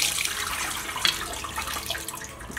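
Water pours steadily from cooked instant noodles, likely Korean-style instant noodles, as they are drained into a sink, a continuous close splashing rush with no talk.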